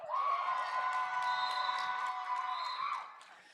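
A roller derby crowd at a season finale bout cheers loudly and steadily for about three seconds, with shrill whoops and shouts rising over the roar before it fades.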